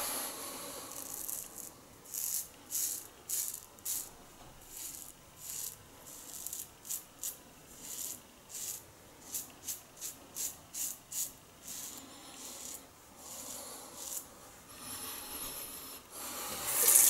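A razor, once used by a late father, scraping across lathered skin in a wet shave, with short rasping strokes repeated in an irregular rhythm, close and fairly quiet.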